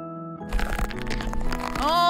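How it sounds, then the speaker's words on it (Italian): A computer keyboard freezing into a block of ice in a comedic sketch: a sharp crackling, crunching burst breaks in after a held tone and continues as dense crackle, ending with a rising shimmer. "Oh no, la mia tastiera si è trasformata in un blocco di ghiaccio!"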